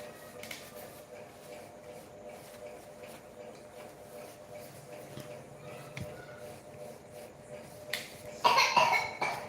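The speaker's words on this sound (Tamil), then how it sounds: "இருமல் வரும், ஏன் வராது?" A person coughs in a few sharp bursts near the end, rising above the low, steady hum of an indoor room that fills the rest of the clip.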